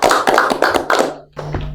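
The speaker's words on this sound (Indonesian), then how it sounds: "tepuk tangan dulu dong" A small group claps hands in brief applause at a Timor car community gathering, a quick burst of sharp, close claps with a short pause before a few more.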